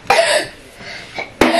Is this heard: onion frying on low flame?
no